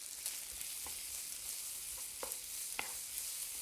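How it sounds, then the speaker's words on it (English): Onions and garlic sizzle while being stir fried, a soft, steady hiss with scattered small pops and scraping stirs, quiet and close with no voices. "You want to hear some sizzle."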